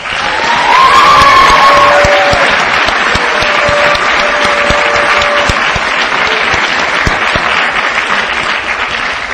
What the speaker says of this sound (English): Finally, let's give the teachers and your administrators one more round of applause